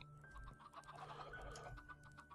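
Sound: chickens clucking in a video game

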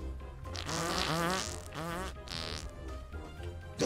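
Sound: fart sounds

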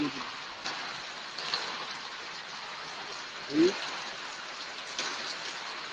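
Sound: monsoon rain falling outside a veranda in Tamil Nadu

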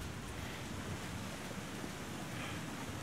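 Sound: wind blowing in the video game The Long Dark

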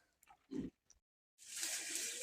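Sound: pigs

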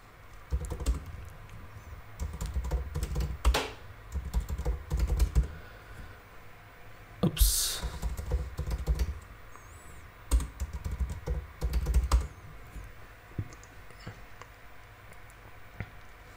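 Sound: typing password on computer keyboard

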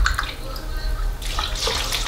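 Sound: water being poured into a pot for pepper soup

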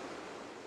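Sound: waterfall

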